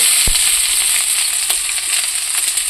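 Sliced onions sizzle steadily in hot oil for a chicken curry, a dense continuous crackle with a sharp clatter as they go in and occasional stirring scrapes, close and loud with no voices.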